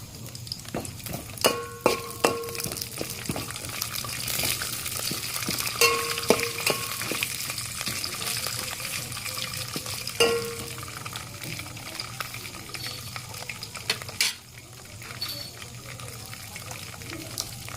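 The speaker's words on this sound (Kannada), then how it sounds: "ಶೇಂಗಾ ಬೀಜ ಕೆಂಪಾಗುತ್ತನ್ನು ಹುರಿಬೇಕು" Peanuts roasting in a pan, stirred with scattered light scrapes and knocks over a soft, steady sizzle, fairly quiet and close, with no talking.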